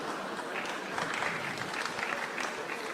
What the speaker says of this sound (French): Ne nous applaudissons pas.